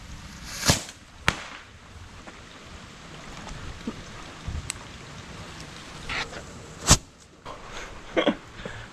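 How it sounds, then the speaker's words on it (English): Distant fireworks pop and crack sporadically outdoors, a few sharp bangs standing out against a soft background hiss. "Fireworks. Really was fun."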